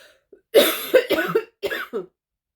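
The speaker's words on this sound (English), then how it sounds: "I have to cough." A few sharp coughs close to the mic, in two quick bursts separated by a short pause, with no talking.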